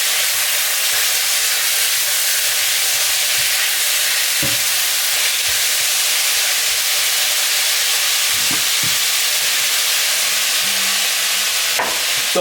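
Minced meat frying in butter in a pan for a pastaless lasagne, with a steady close sizzle and a few sharp spoon scrapes and knocks as it is stirred.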